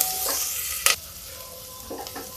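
Onions fry with a steady close sizzle in a pan for a vegetable curry, broken by a few brief scraping stirs.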